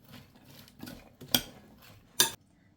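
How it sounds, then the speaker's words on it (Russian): Diced potato being stirred together with chopped onion in a bowl for a meat pie filling, a soft scraping and shuffling of moist pieces with two sharper clinks of a utensil against the bowl, close and fairly quiet. "И чтобы картофель не потемнел, сразу перемешиваю с луком."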